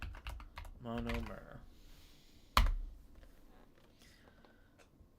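Quick, soft computer keyboard taps come in short bursts during an MCAT study session, close and quiet beneath a spoken word. A sharp louder click or knock lands midway, then faint clicks continue.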